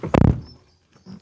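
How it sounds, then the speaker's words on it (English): The door of an Audi A6 Avant C5 shuts with one solid, deep thunk, close and brief, followed by faint quiet handling noises. "listen to this door shut sound"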